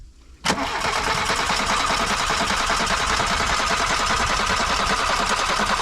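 A Volkswagen Golf 2 with a 1.3 l turbo engine cranks briefly and catches, then settles into a loud, steady running drone close to the listener, with no talk.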